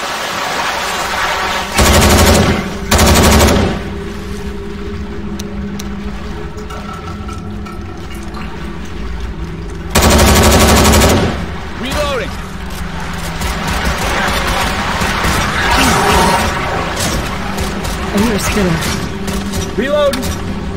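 Loud bursts of automatic and shotgun fire from the zombie shooter game Left 4 Dead, with heavy blasts recurring amid a busy in-game soundscape of mechanical and watery noise and players shouting over it.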